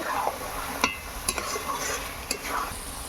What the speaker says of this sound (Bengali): এবার আমি যে গোস্তটাকে দই দিয়ে মাখিয়ে রেখেছিলাম সেটা দিয়ে দেবো। দিয়ে এটাকে আবারও ভালো করে এটাকে নেড়ে নেব।